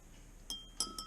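Spoon stirring liquid in a glass lab container, giving three quick bright clinks within a second, close and clear against a quiet background.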